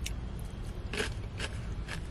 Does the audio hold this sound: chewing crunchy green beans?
yes